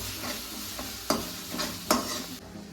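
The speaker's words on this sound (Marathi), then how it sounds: "असा मसाला फ्राय करून घ्यायचा म्हणजे एकदम असा भाजून घ्यायचा चांगला" Masala spice paste fries in a pan with a soft, close sizzle, broken by a few sharper stirring scrapes and knocks, fairly quiet overall with no talking.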